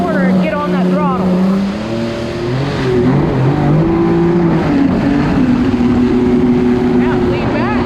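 A 2022 Superjet stand-up jet ski engine fitted with a Jettrim mat kit roars close and loud, its pitch rising and falling as the throttle works through turns, with water wash beneath and talk over the top.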